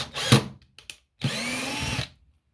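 A 12-volt cordless drill spins up in short bursts: a brief whine and a couple of quick blips, a pause, then a sustained close, loud run of about a second before winding down.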